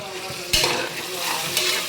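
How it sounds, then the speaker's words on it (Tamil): Onions frying in a pan as a Tamil home cook stirs them while preparing chicken kuzhambu, a steady close sizzle under repeated scraping strokes, with one sharper clatter partway through. "வெங்காயம் வணக்கிட்டுருக்குறேன்"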